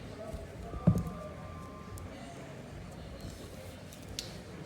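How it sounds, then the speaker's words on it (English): Scissors make a single quiet snip through crochet yarn, heard once near the start against a faint room background. "cut the yarn off"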